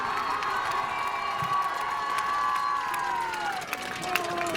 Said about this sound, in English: Let's have one more round of applause for Riley Franzik and Adam Thompson.